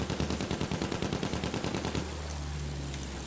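Rhythmic machine-gun fire in an attack plane video game, a steady rapid stream of loud shots for about two seconds before giving way to a low engine drone.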